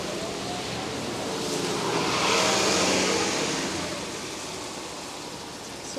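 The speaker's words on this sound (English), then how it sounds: "There's a streetcar replacement bus." A streetcar replacement bus passes on a wet city street in pouring rain, its swishing rush swelling and fading over a constant hiss of rain.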